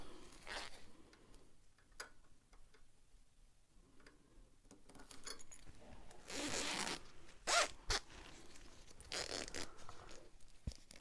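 Zipper pull slid onto zipper tape while sewing a bag, quiet close-up ratcheting zips and rasps in short bursts with small clicks and handling noises between them.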